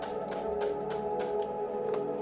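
Several quick sprays from a spray bottle misting a houseplant, short hissing spritzes repeated at a steady rhythm over a low background hum.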